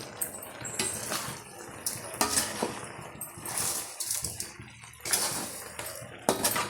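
Chicken with ground pepper, cumin and fennel stirred in a pan, with irregular scraping and metallic clinks of a utensil against the pan, fairly close and moderately quiet.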